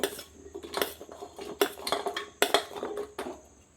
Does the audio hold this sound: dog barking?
no